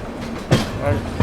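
Gitanjali Superfast Express, a Howrah to Mumbai CSMT passenger train, rumbles past on the rails in a short, steady burst with a couple of heavier thumps, heard close and alone.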